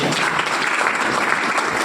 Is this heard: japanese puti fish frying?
no